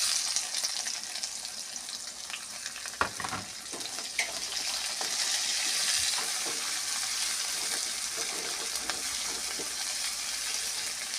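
Onions dropped into hot oil with already-fried garlic, sizzling and crackling steadily in a pan, with a few sharp stirring knocks early on and no talk.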